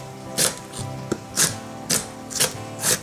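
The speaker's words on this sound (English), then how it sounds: "I'm going to chop up a whole onion." A knife finely chopping an onion on a cutting board, a handful of close, crisp thunks spaced unevenly, about six strokes in three seconds.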